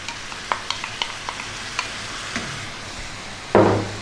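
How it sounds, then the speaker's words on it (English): Light stirring clicks in a hot pan give way to a loud burst of sizzling as a can of tomatoes drops in for an Italian pasta sauce, the hiss surging near and then settling. "grab that 1 can of tomatoes. We're going to drop that in"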